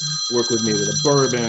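A cigar smoker's phone rings steadily with a repeating electronic tone beneath a man's close, continuous talking.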